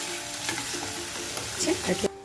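Chili paste fries in a hot pan for a chicken kosha, a dense sizzling crackle with a few spoon stirs and scrapes, ending abruptly; no voices.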